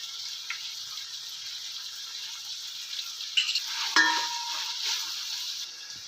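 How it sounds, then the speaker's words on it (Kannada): Vegetables for a hotel-style vegetable pulao frying in hot oil, giving a steady, soft sizzle with a few stirring clinks and scrapes near the four-second mark. "ಇವೆಲ್ಲ ಆಯಿಲಲ್ಲಿ ಚೆನ್ನಾಗಿ ಫ್ರೈ ಆಗಂತ ಫ್ರೈ ಮಾಡ್ಕೋಬೇಕು"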